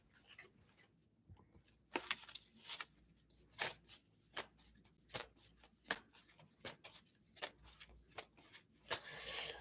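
Tarot-style reading cards being shuffled by hand, a run of crisp, rapid riffling snaps and flutters repeating in bursts, close and fairly quiet, with no talk.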